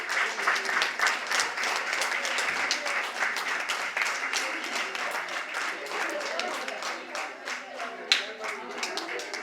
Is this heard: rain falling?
no